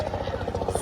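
A helicopter passes overhead at sea, its rotor giving a rapid, steady thumping chop in a brief, moderately loud burst, with a voice faintly underneath.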